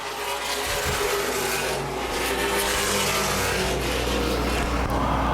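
Late model stock cars race at Baer Field Speedway in a NAPA Late Models feature, a loud, continuous roar of several engines close by with a steady drone swelling and easing as the pack circulates.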